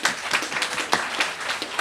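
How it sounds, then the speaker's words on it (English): Applause from an audience at a library reopening ribbon-cutting ceremony in East Flatbush, a dense burst of clapping with a few sharper claps standing out, steady and fairly close. "let's give a round of applause for this"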